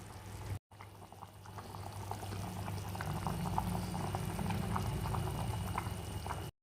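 Chicken boiling in water for a no-oil recipe with bamboo shoot, a steady bubbling simmer with small popping bursts that grows slightly fuller after a brief break at the start.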